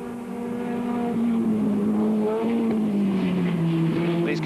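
Formula Ford 1600 race cars with pushrod Ford engines at Oulton Park in 1991, a loud, steady engine drone with rising and falling pitch as cars pass close by, continuous through the whole stretch.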